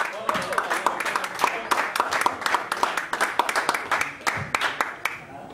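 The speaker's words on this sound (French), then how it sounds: "est-ce qu'on peut l'applaudir?" An audience at a community cultural event claps for an honoured older man, sharp individual hand claps from a modest crowd, loose and uneven, with some voices mixed in.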